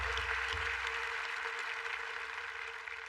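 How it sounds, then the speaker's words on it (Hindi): Applause for businessmen from an audience, a fairly quiet wash of clapping that stays even throughout, heard over a low steady hum with no talking on top. "उनके लिए जोरदार तालियां हो जाए।"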